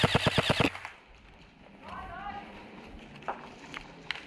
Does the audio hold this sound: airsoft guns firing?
yes